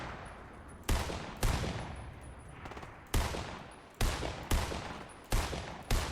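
Video game gunfire, a series of loud single shots spaced irregularly about a second apart, each with a long decaying echo tail, close and without talk.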